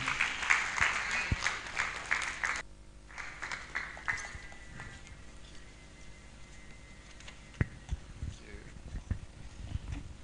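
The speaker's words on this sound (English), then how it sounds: "A round of applause as he comes to take his opening statement" Scattered applause from a conference crowd at a hotel, strongest at the start and then thinning into sparse claps and faint background noise.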